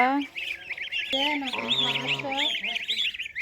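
Campbell ducks call close by with a steady run of high, chirpy, nasal notes and a few lower honking calls in between, fairly loud throughout.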